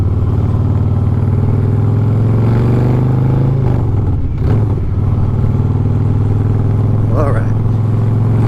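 A 2020 Harley-Davidson Fat Boy with the 114 motor idles with a deep, loud, rumbling throb. Short throttle blips and clatter cut into it, and a person speaks over part of it.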